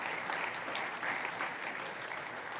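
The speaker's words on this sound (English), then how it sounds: "One more round of applause for Eliyahu, for the band, and for Nicole." A congregation at a New Year burning bowl and white stone service applauds the speaker, band and singer, a brief, even wash of clapping heard at a moderate distance.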